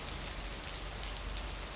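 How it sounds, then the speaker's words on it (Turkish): Steady, dense rain falls throughout in the video game Lake, a constant hiss of drops spattering on surfaces. "Bu ne yağmur sesi ya?"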